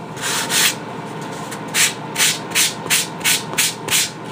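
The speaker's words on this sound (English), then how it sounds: "this 150 Norton foam sanding pad, and I'm going to clean it up" Rhythmic scrubbing of a 150-grit Norton foam sanding pad on foam, about nine quick back-and-forth strokes in a steady beat, close and fairly loud, while building an RC airliner model.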